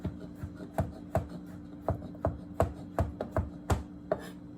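A knife chops vegetables finely on a cutting board for a meatless spaghetti dish, a close run of about a dozen crisp, irregular knocks with brief scraping between them and no talk.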